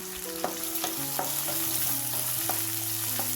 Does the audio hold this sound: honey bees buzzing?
no